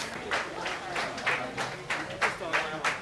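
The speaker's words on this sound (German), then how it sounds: "man bekommt selten Applaus dafür, dass man einfach isst" Repeated bursts of clapping from a small group rise and fall in quick succession, close by and fairly loud, greeting people sitting down to eat.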